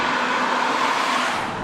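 A BMW M6 E24 engine drones steadily while driving, a constant mid-range hum with broad road and wind noise filling the background.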